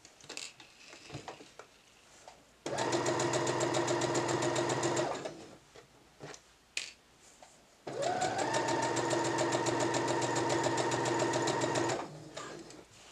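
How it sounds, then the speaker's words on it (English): A sewing machine stitches a kaftan seam toward the hemline, whirring in two long steady runs separated by a quiet pause with faint handling noises, close and clear without speech. "just continue sewing all the way down till you reach the hemline"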